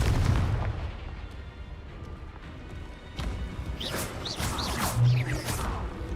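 Confringo blasting spells explode in Hogwarts Legacy, giving a series of booming, crackling blasts with whooshing bursts. A low rumble opens the passage, and sharper impacts cluster near the end.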